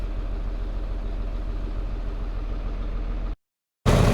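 A tractor engine runs steadily during a bean harvest with a deep, continuous rumble, cutting out briefly near the end before roaring back loudly.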